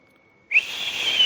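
A sharp lip whistle meant to call dolphins starts abruptly out of near silence and holds as one sustained, bright, slightly breathy tone.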